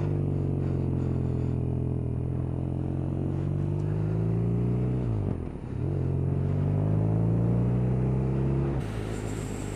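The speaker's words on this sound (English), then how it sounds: "this bike has no manners whatsoever. It's very loud" A BMW R nineT Racer motorcycle engine runs loud and close, its rumbling note rising and falling through several revs, with a sharp dip near the middle before climbing again.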